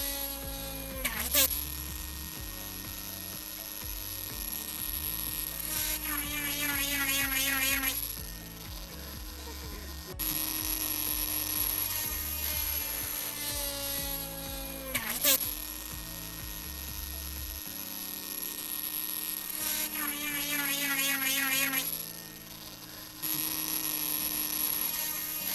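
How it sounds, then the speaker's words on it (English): A power drill whines and bores into a holder for a mini LED studio light in repeated runs, pitch dipping under load, with pauses and mechanical rattling between passes. "Now I'm drilling the holder."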